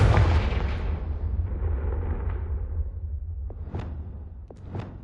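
A Confringo blasting spell cast in Hogwarts Legacy bursts in a loud fiery explosion that rumbles and fades over a few seconds, followed by a couple of smaller popping impacts, with no talking.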